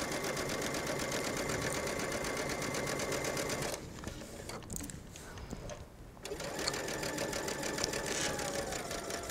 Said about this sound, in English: I'm just going to stitch around the front neckline